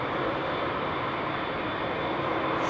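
An Air Canada Airbus A220 airliner taxis at Heathrow, its engines giving a steady, broad jet roar that holds at an even level throughout with no voices.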